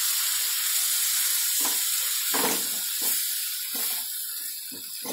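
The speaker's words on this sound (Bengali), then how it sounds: "এখানেও আমি একটু জল মেশাচ্ছি, যেহেতু লঙ্কার গুঁড়ো দিয়েছি কলাটা জ্বলে যাবে বলে।" A splash of water hits chili powder frying in a pan for a soya chunk and potato curry, setting off a loud steady hiss with short bubbling bursts.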